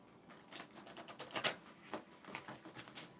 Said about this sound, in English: They shuffle so much better this way